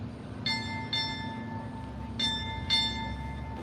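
Four clear strikes of a ship's bell in two pairs at a US Navy retirement ceremony, ringing tones over a constant low rumble, with no voices.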